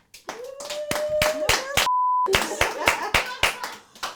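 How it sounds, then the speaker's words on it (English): Sharp, distinct hand claps from a small studio audience ring out in an uneven rhythm, with people talking between them and a steady electronic bleep tone cutting in briefly midway. "please give me a round of applause"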